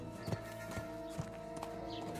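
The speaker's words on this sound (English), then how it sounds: "Stop that horse and surrender!" Hooves clip-clop at a steady pace in Kingdom Come: Deliverance II, over a dense, layered game backdrop, with a faint whinny near the end.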